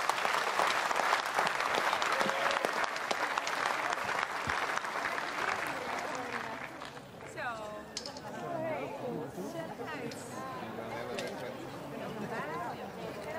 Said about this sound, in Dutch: geef ze nog even een daverend applaus